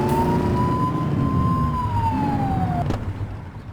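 A police car siren wails in a patrol driving video game, one long rising and slowly falling tone that is loud and close, cutting off abruptly near the end over a low engine rumble.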